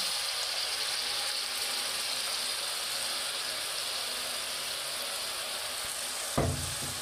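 Spice paste fries with onion paste in a hot pan, a dense, continuous sizzle and crackle, close and fairly loud, with a brief clunk of a utensil near the end.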